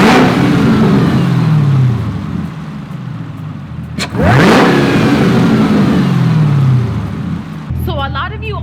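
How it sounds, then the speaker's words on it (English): A Ford Mustang Shelby GT350 engine with a RotoFab intake revs up and down close by, two strong rising and falling sweeps with a throaty intake roar, then settles back toward idle. "I'll give it a few revs so we can hear how it sounds now with the new RotoFab intake"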